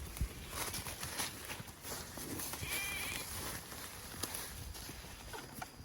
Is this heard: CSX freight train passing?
no